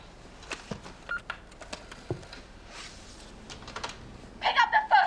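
A telephone is dialed by hand, with scattered soft key presses followed by a quick run of louder, bright tones near the end, close by and heard alone.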